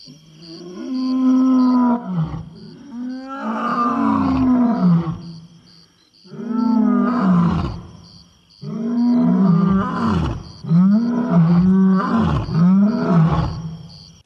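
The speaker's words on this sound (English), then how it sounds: "Here's some of the lion sounds you recorded." Lion roars recorded as raw material for velociraptor sound design, several long, loud, close roars with groaning harmonic swells, separated by short pauses.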